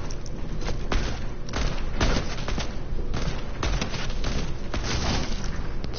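Video game gunfire, a continuous loud burst of rapid shots and booming impacts that goes on without pause.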